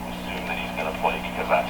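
A 1929 Victor RE 45 tube radio plays on its own, giving steady broadband hum and hiss with faint voice-like broadcast sound drifting through, a low constant drone beneath.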